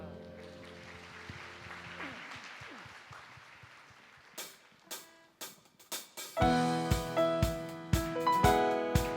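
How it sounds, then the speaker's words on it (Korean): A congregation claps in a steady rhythm during a Sunday morning church worship service, the sharp claps getting louder and more unified, with music playing underneath. "주님께 박수로 나아갑니다"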